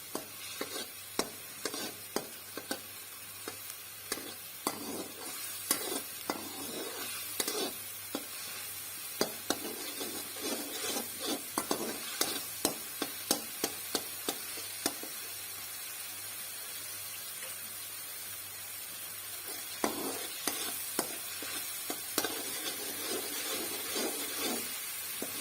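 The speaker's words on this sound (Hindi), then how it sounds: "इसके साथ हम चम्मच को हिलाते रहेंगे, ताकि ये हमारा पेस्ट नीचे कढ़ाई के साथ ना चिपके।" Garlic ginger paste frying in a wok, stirred with a spoon: a continuous hissing sizzle broken by repeated scraping taps of the spoon against the metal.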